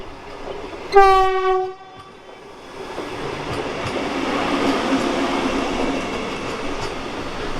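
Hyderabad–Tirupati Vande Bharat Express departing from a station near Nalgonda, a loud, sustained horn blast early on, followed by a rising rumble as the train pulls away and gathers speed.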